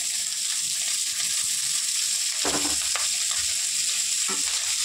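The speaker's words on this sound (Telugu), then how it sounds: "ఇప్పుడు ఉల్లిపాయలు వేసుకుందాం." Sliced onions hiss and crackle in oil with fried ginger paste for a bachelor-style chicken fry, a steady close sizzle broken by a few sharp stirring scrapes around the middle.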